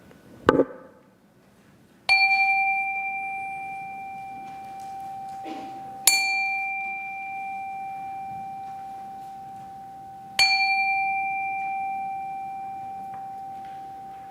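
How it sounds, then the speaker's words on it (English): A chime rings three times at the start of a Sunday church service, each clear metallic strike sounding a bright, pure tone that decays slowly in a quiet hall, after a faint brief knock at the start. "let us settle our minds and calm our hearts with the ringing of the chime."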